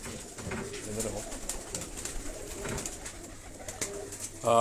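Several pigeons in Karachi coo close by, low rolling calls overlapping in a steady murmur, with a brief voice at the very end.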